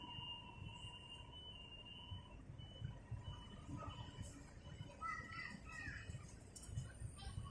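Pigeons call and squawk over a steady background hiss, with scattered chirps and coos rising and falling throughout, moderately near, in a park.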